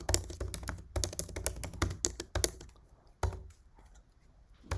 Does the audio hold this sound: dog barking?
no